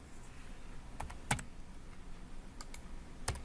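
Computer keyboard keys tapped for command shortcuts, a few sparse, quiet clicks in small clusters against a faint room background, with no talking.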